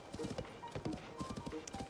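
Hooves clip-clop in a steady trotting rhythm from a horse in Zelda: Tears of the Kingdom, close and fairly loud, with faint game chimes in the background.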